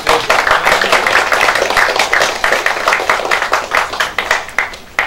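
Lawmakers at a Bareunmirae Party caucus for electing a floor leader clap loudly for a candidate being introduced. The dense, steady applause is close and continuous for about five seconds, with no talking over it.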